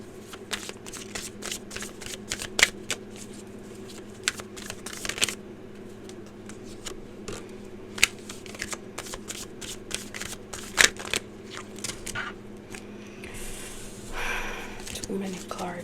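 A deck of tarot cards being shuffled by hand, with steady riffling and clattering bursts running throughout, close and fairly loud, with soft breathing in the background.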